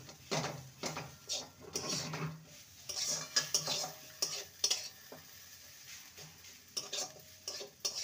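Mashed boiled potato is stirred into a green peas curry, heard as repeated scraping and clinking of a spoon against a pot in uneven bursts over a faint simmer.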